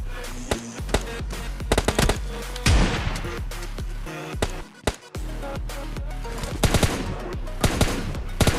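Gunfire from a PUBG Mobile Lite match fills the clip with loud, dense automatic bursts and rapid shots that run almost without a break from start to finish.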